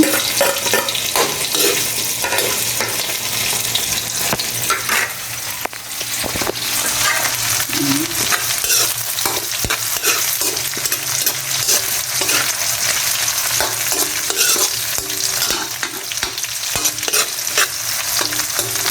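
Pancit noodles sizzle loudly in a hot pan with garlic, stirred continuously for the whole stretch, with scraping and clattering from the utensil over a steady frying hiss.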